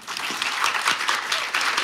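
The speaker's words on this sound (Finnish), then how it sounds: "Annetaan vielä aplodit Eevalle" A brief burst of steady audience applause at a youth event, dense and even from start to finish.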